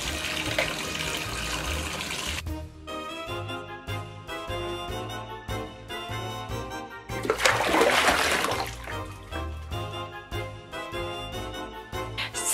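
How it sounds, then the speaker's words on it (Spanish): A toy bathroom tap runs in a doll's morning routine, with water rushing loudest in a burst midway through, set against steady background music. "Voy a prender el agua mientras que me voy a cepillar los dientes."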